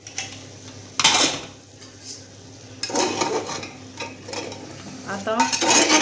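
Food being stirred in a pressure cooker on a gas stove, with repeated scraping, clattering bursts of a spoon against the metal pot between quieter stretches of soft sizzling, close and fairly loud, no talk.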